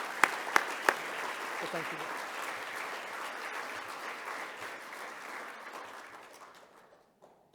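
Audience at an anniversary dinner applauding, a few sharp claps opening into a broad, sustained round that gradually dies away, with a speaker's brief words at the end.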